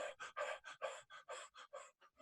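Rapid, heavy panting from a person ill with coronavirus after climbing stairs, a steady string of about a dozen close, breathy gasps in quick rhythm.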